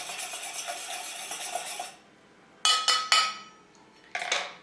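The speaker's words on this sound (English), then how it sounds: "I'm just going to give these ingredients a mix." Sauce ingredients are mixed in a bowl, giving a run of rapid clinking and scraping strokes followed by a pause, then several sharp louder clinks, close and alone.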